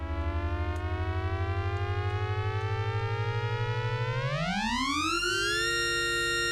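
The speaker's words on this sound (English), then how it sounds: "so these wonderful acceleration sounds are also cool." A buzzy synthesizer tone holds steady, then sweeps sharply upward in pitch like an accelerating engine before settling on a higher sustained note.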